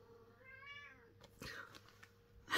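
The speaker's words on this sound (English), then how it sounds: "And the cat starts." An indoor house cat gives one clear, drawn-out meow with a rising then falling pitch, followed by a few rustles and soft thumps nearby, fairly quiet overall.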